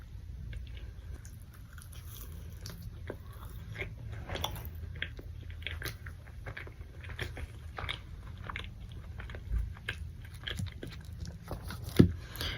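Raising Cane's food eaten close to the microphone in ASMR style: quiet, intimate bites and crunchy chewing clicks repeat irregularly over a faint low hum, with one sharper crunch near the end and no speech.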